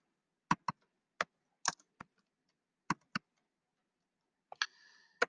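Keys tapped on a computer keyboard in short, irregular clicks, about a dozen sharp strokes spaced unevenly, close and fairly quiet with no talking.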